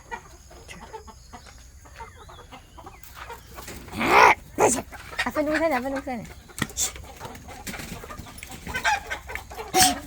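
Chickens cluck and squawk nearby in bursts inside a coop, a few louder alarmed calls among them, while people talk and call to each other over the birds while catching them.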